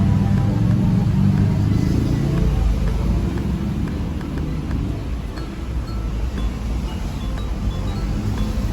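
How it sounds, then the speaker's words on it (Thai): A 2007 Toyota Camry engine idles after a push-button start, a steady low rumble close by with no talk over it. "เครื่องยนต์ก็จะสตาร์ทติดนะครับ"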